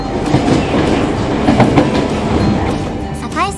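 Hankyu Kyoto Line local train pulling into Awaji station, with rhythmic wheel clickety-clack over rail joints, a close steady rumble and a brief rising brake squeal near the end.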